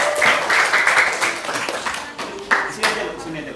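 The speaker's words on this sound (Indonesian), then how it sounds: "Beri tepuk tangan untuk Lulu dulu." Classroom students clapping for a classmate, a dense burst of many hands close by that thins into scattered claps, with voices mixed in.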